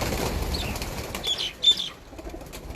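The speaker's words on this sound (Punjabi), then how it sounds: "ਰਾਏ ਸਾਹਿਬ ਫੜੋ ਕਿਹੜੇ ਕਿਹੜੇ ਆਪਣੇ ਪ੍ਰਵਾਦੀ ਕਬੂਤਰ ਨੇ" Racing pigeons take off in a flying contest. Their wings flap in a few quick, close bursts over a soft background hush, and the loudest flutter comes midway, with no voices.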